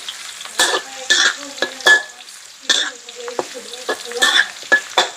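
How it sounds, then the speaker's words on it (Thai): Garlic being fried in oil for a Thai pickled mustard green dish, with stirring scrapes and bursts of sizzling coming in uneven clusters, fairly close and loud, with no talking. "เดี๋ยวก็เจียวกระเทียมต่อ"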